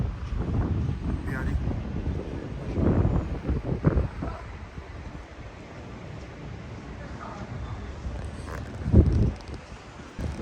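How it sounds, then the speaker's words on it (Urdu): Wind gusts across the rooftop of Masjid an-Nabawi in Madinah, buffeting the microphone with a steady low rumble that swells around three and nine seconds, with faint voices in the background. "ہوا چل رہی ہے پیاری"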